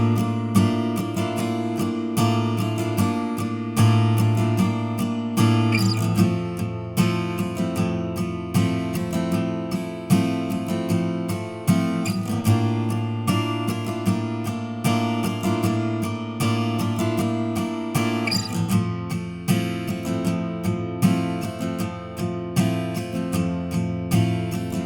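Acoustic guitar strums the chords of a song in a steady rhythmic pattern, each chord ringing for two bars, bright and close with no talking.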